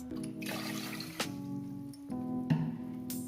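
Water pours into measured sugar in a pan while making sugar syrup for semolina gulab jamun, a close, steady trickle and splash running almost continuously, with a brief knock partway through.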